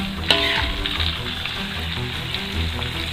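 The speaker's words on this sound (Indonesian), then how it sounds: "masukkan daun ganjeng, aduk sampai daun ganjeng kering" Ganjeng leaves frying with spices in a wok while being stirred, a loud, close, continuous sizzle with scraping stir noises.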